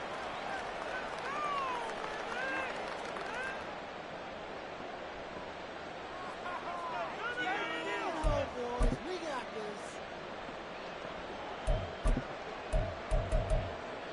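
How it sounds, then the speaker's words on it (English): Stadium crowd roar from a Madden 24 football game, a broad steady wash of noise building under the play with scattered sharper thumps and bursts near the end, while a voice talks over it. "This crowd turning up the decibel level."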